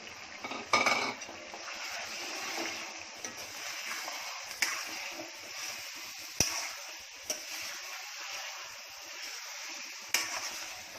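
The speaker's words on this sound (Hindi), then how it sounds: "अब इसमें अपने मटर जा रहे हैं" Peas sizzling steadily in a pan while a spoon scrapes and clinks against the metal now and then, close by with no talking.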